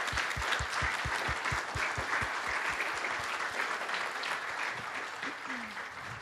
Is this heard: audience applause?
yes